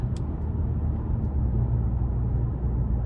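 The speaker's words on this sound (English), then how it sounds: "this exhaust, I just now noticed it pulling out of that corner. It sounds really good." A 2024 Toyota Camry XSE with a four-cylinder engine and eight-speed automatic drones steadily from its exhaust while pulling away, a close, even low rumble with no talk over it.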